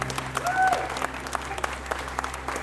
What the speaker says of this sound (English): Super round of applause for Lucy.